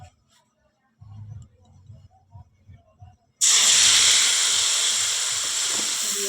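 Black and white mustard seeds hit hot oil and erupt into a loud, steady, hissing sizzle that fades slowly, following a few seconds of quiet kitchen handling sounds.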